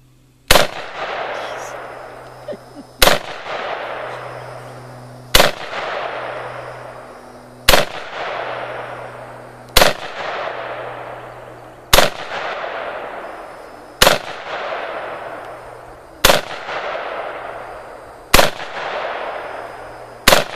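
A Tavor SAR-G16 rifle fires single shots on a range, nine or so sharp, loud cracks spaced roughly two to three seconds apart, each ringing out with a decaying echo.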